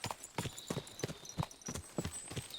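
A horse's hooves clip-clop steadily in the video game Kingdom Come: Deliverance II, a quiet, regular trotting rhythm of hoof strikes with a faint thin tone in the background.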